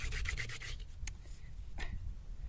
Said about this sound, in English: press my body weight down on the spindle as I'm drilling